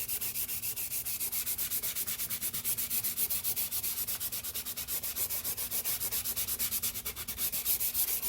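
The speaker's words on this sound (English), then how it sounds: "then sand the rest of this fingerboard" Steady, continuous rasping of hand sanding a wooden guitar fingerboard, a brisk back-and-forth scratching that stays close and even throughout with no voices.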